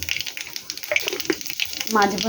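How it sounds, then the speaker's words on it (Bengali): Nigella seeds hit hot oil for a Bengali katla fish and potato curry, sputtering with scattered crackles that swell into a denser sizzle near the end, close by, with a voice speaking over it. "আমি কালো জিরা ফোড়ন দিয়ে দিলাম তেলের উপরে"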